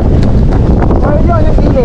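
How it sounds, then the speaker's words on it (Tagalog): Strong wind buffets the microphone at a seaside campsite in Bangui, Ilocos Norte, a loud continuous rumble with a voice faintly underneath. "Ang lakas ng hangin."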